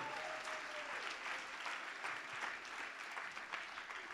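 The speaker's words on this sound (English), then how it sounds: "Round of applause for everybody and Drew." Steady applause from an audience fills the room at the Media Access Awards, a dense and even wash of clapping that holds at a constant level for the full stretch.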